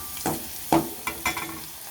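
Potato fingers fry in hot oil, and their sputtering sizzle is broken by several sharp crackles and pops at irregular intervals, fairly close and with no voices.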